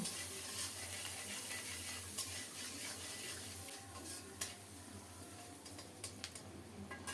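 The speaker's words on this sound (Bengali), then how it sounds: "এই তেলেই এক মুঠো কুচানো পেঁয়াজ দিলাম নেড়ে চেড়ে পেঁয়াজটাকে একটু নরম করে ভেজে নেব" Chopped onion frying in oil for an egg curry, stirred now and then: a steady, fairly quiet sizzle with light scraping pulses and a few sharp clicks, no voices.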